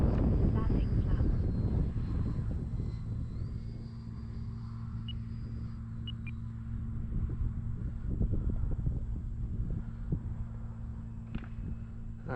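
Wind-buffeted roar of an E-flite Viper RC jet coming in to land with flaps deployed, a steady close drone under gusty rumble that holds throughout.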